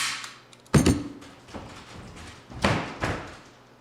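Door being battered down as a sound effect in a live radio play: a heavy slam and thud, then a few softer knocks, and a second loud crash near the end, close and dry with no voices.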